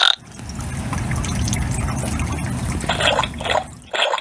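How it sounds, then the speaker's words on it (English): Cartoon raindrops splish-splashing against a bedroom window at night: a continuous patter of watery drips and splashes, with a few brighter splashes near the end. "The splish, splash, splosh of raindrops on the window sings Peppa and George to sleep."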